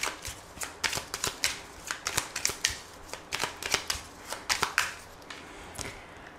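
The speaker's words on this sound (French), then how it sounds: "on va faire un tirage en 9 cartes pour voir les messages" Tarot cards being shuffled before a nine-card spread, an irregular series of crisp, quick card flicks and riffles heard close and alone.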